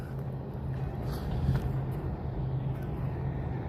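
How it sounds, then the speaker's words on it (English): A truck and a car passing on a road below, a low, steady rumble of traffic heard from some distance that swells slightly midway, with faint background noise. "There's a truck, there's a car down there."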